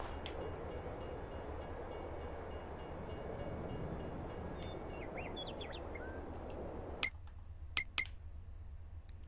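A train in Farming Simulator 22 rumbles steadily at low volume, a broad continuous rolling drone with faint game bird chirps over it, then the rumble cuts off abruptly near the end, leaving a few sharp clicks.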